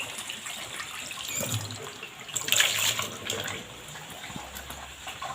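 Food rinsed under a running kitchen tap while cooking a rattan-shoot vegetable dish: a steady, close rush of water with brief splashing surges as the food is moved through the stream.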